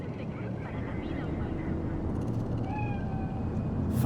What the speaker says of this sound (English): Fine-looking feline.